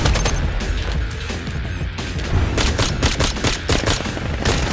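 Shots fired one-handed from pistols in the VR shooter Vail, a loud, close run of repeated cracks and bursts over busy background noise of the fight, with no talk.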